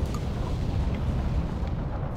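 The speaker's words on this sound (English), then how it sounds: "That must be the auxiliary cruiser being blown to bits by internal explosions." An auxiliary cruiser blows apart from internal explosions in the submarine game Silent Hunter 3, heard as a dense, continuous low rumbling roar, loud and steady with no distinct separate blasts and no voices.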